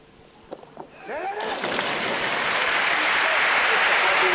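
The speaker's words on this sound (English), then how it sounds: "Well, I don't understand the applause at all" A crowd at the 1999 World Weightlifting Championships, 62 kg class, bursts into applause after a missed lift, starting from scattered claps and swelling within a second into a loud, sustained wash of clapping that continues to the end.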